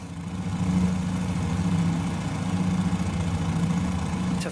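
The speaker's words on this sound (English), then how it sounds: "Look how close these engines are. Yeah, look. How noisy must this have been" Closely mounted engines of an old Fokker airliner in Microsoft Flight Simulator, a steady droning hum with a strong low tone, even and sustained at a moderate level.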